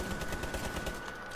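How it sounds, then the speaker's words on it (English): Rapid gunfire in a multiplayer video game, with a Recruit-class shooter, firing as a steady rattling burst of repeated shots throughout, dense and continuous with no talk over it. "Can you stop shooting at me?"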